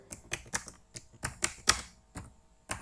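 Quick, uneven bursts of key presses on a computer keyboard while entering JavaScript code, about a dozen close, crisp clicks with short pauses between clusters and no talking.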